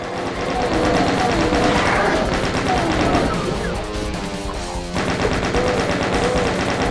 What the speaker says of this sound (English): if they come through, I'll just chain gun them